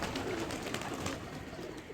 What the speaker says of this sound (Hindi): ये जिसको कबूतर गुड़ करेगा ना